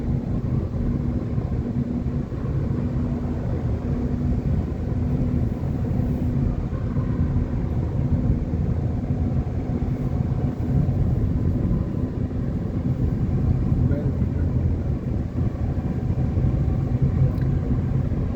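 A car driving at about 80–90 km/h through a long tunnel beside Attabad Lake, giving a loud, steady, continuous road and engine rumble that echoes in the enclosed space with no break.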